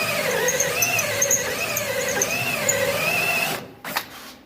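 A plasma cutter struggles against thick rubberized undercoating on a 1967 Mustang frame rail, giving a loud, continuous wavering squeal with shifting pitch that cuts out abruptly near the end, leaving a few faint clunks.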